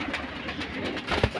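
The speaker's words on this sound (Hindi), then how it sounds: "ये लाखा कबूतर बैठा नीचे, इनमें मोस्टली कबूतर जो हैं टैडी क्रॉस हैं" Lakha and Teddy cross highflyer pigeons coo in a loft, a soft low burbling repeated in short pulses over a steady background hum, with one louder coo near the end.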